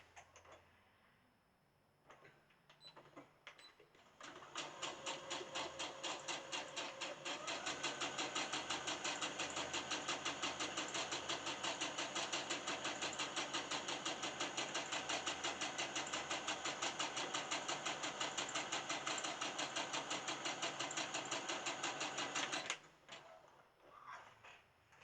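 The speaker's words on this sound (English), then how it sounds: "now what you want to do is you want to sew from here and down and leave this open" Sewing machine stitching a toddler pillowcase, a close, loud and steady rapid mechanical whir running about eighteen seconds after a brief start, then stopping.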